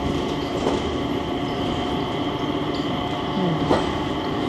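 An airport train at Singapore Changi rolls along with a continuous rumbling drone and faint rail clatter, with a brief metallic squeal near the end and no speech.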